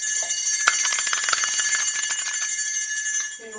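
A bright electronic alert bell rings out loud and continuous for about three seconds, its metallic tones shimmering and then stopping abruptly.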